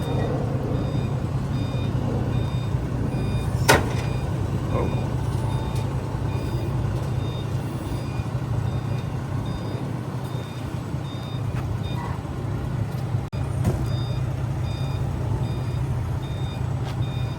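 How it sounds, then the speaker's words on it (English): A Jeep is unloaded from a car hauler truck, with a steady low truck engine idle, repeated reversing beeps and occasional clanks, heard nearby with no talking. "Unloading this Jeep right now."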